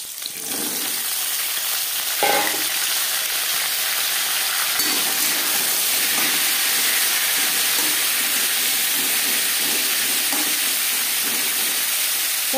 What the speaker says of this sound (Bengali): 2 চামচ রিফাইন্ড অয়েল গরম করে নেওয়ার পর দিয়ে দেবো পটল।